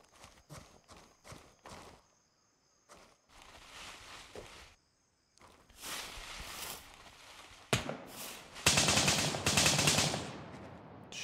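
Weapon handling in the military shooter Grey Zone Warfare: a run of quick metallic clicks and clacks leads into louder rattling and bursts of noise, with distant gunfire mixed in.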